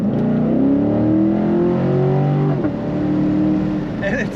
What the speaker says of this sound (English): You get a little more bark from that exhaust.